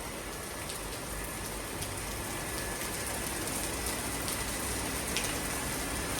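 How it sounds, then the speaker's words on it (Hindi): Heavy rain pours down in a dense, steady hiss with scattered louder drops striking a surface, continuous and unbroken throughout. "क्योंकि बारिश बहुत तेज़ हो गई"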